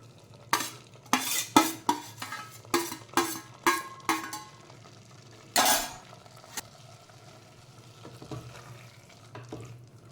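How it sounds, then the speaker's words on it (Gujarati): Boiled and roasted cluster beans are tipped into a pan and stirred, giving a quick series of close scraping, clattering strokes of a spoon against the pan over faint sizzling. "હવે આપણે જે ગવારને એ બાફી હતી ને શેકી હતી એ આપણે અંદર એડ કરી દઈશું"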